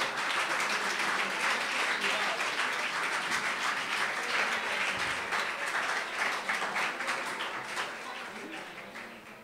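A congregation at a prophetic leaders' congress in church claps loudly and steadily, a dense sustained applause that slowly fades toward the end, with a few voices faintly beneath.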